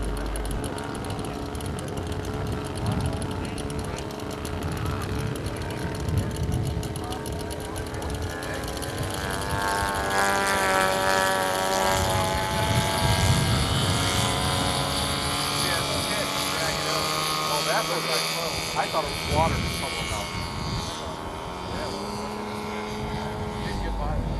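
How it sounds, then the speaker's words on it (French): Model aircraft with a Ford 2210 propeller flying at an event, its engine buzz droning continuously and shifting in pitch as it moves overhead, mixed with crowd noise and talking throughout. "L'hélice est une Ford 2210 qui donne à l'appareil une vitesse d'évolution très réaliste comme vous allez pouvoir le juger."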